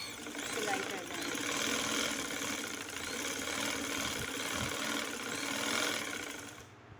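A sewing machine stitches fabric for a skirt in a steady, close mechanical whir that runs unbroken for several seconds and stops abruptly at the very end.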